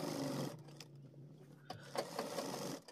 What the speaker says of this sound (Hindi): अब हम यहाँ पर लगाएंगे सिलाई ऊपर इस तरीके से सिलाई लगाना है